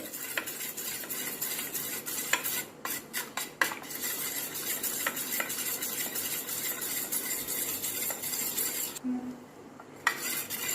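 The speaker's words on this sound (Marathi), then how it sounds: "याच्यामध्ये कस्टर्ड पावडर घेणार आहे याच्यानंतर आपण याला आता फेटून घेणार आहे" Custard powder whisked into milk in a pot, a busy steady scraping and clinking of the whisk against the pan with occasional sharper taps, close up and alone.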